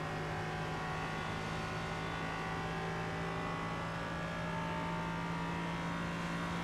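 An LMP3 prototype race car's engine in the iRacing sim, a steady loud drone holding a high pitch throughout, with no voices over it.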